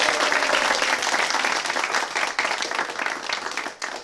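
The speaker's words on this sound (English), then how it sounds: "big round of applause" A congregation claps for a choir, a full and lively round of many hands close by that holds strong before tapering slightly near the end.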